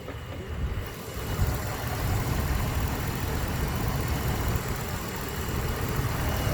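A 2006 Dodge Durango's 4.7 liter V8 idles quietly and smoothly with the hood up, producing a soft, steady low rumble heard close by, with no one talking.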